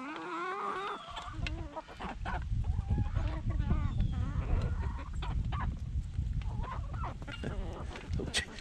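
Chickens and a young rooster squabble over treats, a close, busy chorus of clucks, squawks and honking calls overlapping continuously.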